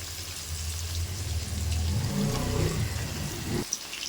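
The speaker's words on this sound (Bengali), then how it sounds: "পনিরগুলো ভেজে আমি আলুগুলো সুন্দর করে লাল লাল করে ভেজে নিলাম" Paneer and potatoes frying in a pan give a continuous crackling sizzle, like steady rain, over a low hum. A brief knock comes near the end.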